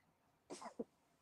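A single short sneeze, quiet and somewhat distant, a quick burst followed by a brief second puff, alone against a faint background.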